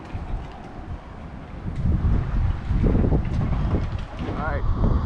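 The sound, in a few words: strong wind blowing on a back deck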